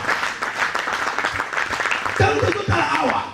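Congregation at a church dedication service in Paris applauding and cheering for God, dense clapping filling the space with voices rising over it toward the end.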